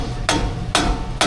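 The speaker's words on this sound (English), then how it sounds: "Let's hammer a couple more wedges in this." Three sharp metallic hammer strikes drive wedges into a bore on a Toyota Tacoma in a garage, evenly spaced about half a second apart, loud and close over a steady background hum.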